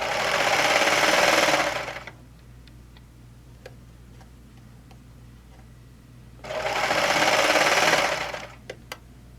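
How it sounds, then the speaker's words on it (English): A serger sewing machine stitches knit fabric in two loud, close bursts of rapid whirring, separated by a quiet pause with faint ticks and clicks of handling. "And so you'll see that I'm not picking up my presser foot on my serger."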